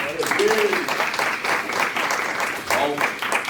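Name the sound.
congregation applauding in church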